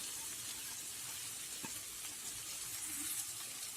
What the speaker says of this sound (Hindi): नेक्स्ट हम इसमें ये फ्राई की हुई फली डाल देते हैं।